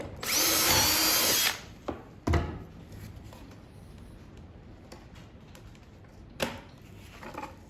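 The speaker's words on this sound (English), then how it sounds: "I'm drilling my last few holes." A loud, high-pitched power drill whirs for about a second and a half drilling holes in a wooden cabinet side piece, followed by a few quieter knocks and clicks of wood handling.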